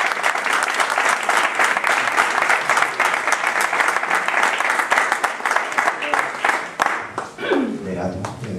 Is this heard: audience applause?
yes